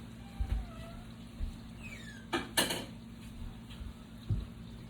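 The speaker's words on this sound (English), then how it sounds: "I'm just stirring up the beans back here" A wooden spoon stirs beans in a pan for a taco-seasoned dish, giving a few soft scrapes and knocks against the pan among faint kitchen background hum.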